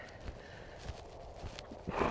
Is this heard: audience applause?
no